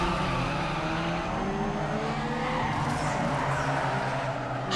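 A car engine in Need for Speed: Underground 2 roars loudly while tires squeal and skid in a long continuous drift, the engine pitch wavering throughout.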